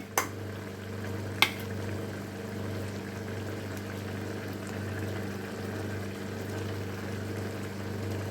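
Ridge gourd and grated carrot sauté in a pan with a soft, steady sizzle, close and continuous, broken by a couple of sharp utensil clicks near the start.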